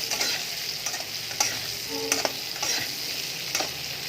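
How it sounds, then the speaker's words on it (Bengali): Vegetables cooking in oil, a steady soft sizzle with occasional scraping stirs and light clinks of a spoon against the pan, no voices. "তেল দিয়েছি সবজিতে গাছ, রান্না চলছে"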